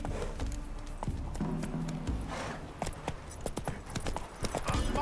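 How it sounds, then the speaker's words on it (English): A horse gallops in The Witcher 3, its hooves beating a steady, fairly close clip-clop rhythm over the game soundscape, with no talk. "Run, Roach."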